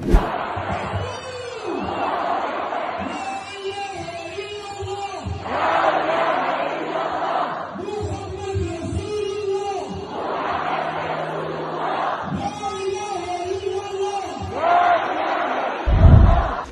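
A large crowd of protesters in Turkey chants in loud, rhythmic waves, roaring out a repeated call roughly every few seconds across a wide open space.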